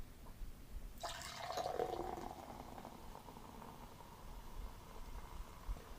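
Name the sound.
pouring Sprite into a pint glass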